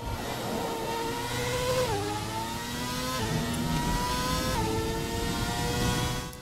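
An F1 car in the F1 2017 racing game re-accelerates out of the final corner during qualifying, its engine note climbing steadily through several upshifts, each marked by a brief dip in pitch, loud and continuous.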